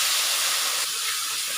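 A pot of spiced water for bottle-gourd dudhi muthiya boils on the stove with a steady bright hiss of steam and bubbling, close and unbroken, with no talking.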